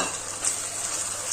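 Chopped tomato and onion sauté in a pan, a brief close burst of continuous hissing sizzle with soft stirring texture and no voices.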